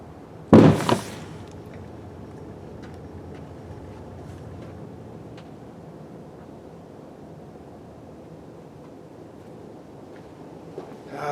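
Rock blasting with four drilled holes loaded a little extra heavy in hard rock gives one sharp, loud explosive crack with a quick second thump, then a long quiet outdoor tail of faint debris and wind.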